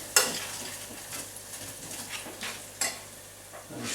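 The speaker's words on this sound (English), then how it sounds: "Give that a stir." Melted cheese sauce is stirred in a pan with a soft, low sizzle broken by a few clicks and scrapes of a utensil against the pan, faint and without talk.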